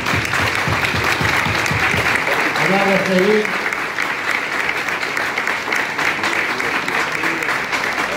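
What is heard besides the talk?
audience applauding railway workers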